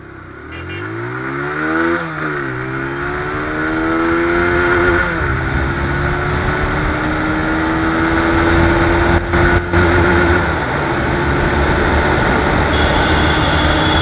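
A TVS Apache RTR 160 BS6 single-cylinder motorcycle accelerates toward top speed, its engine note climbing through gear changes, then holds a loud, steady drone mixed with heavy wind rush.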